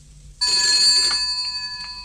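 An old post office telephone bell rings out loud and close in one sustained, bright trill that slowly fades, with no talking.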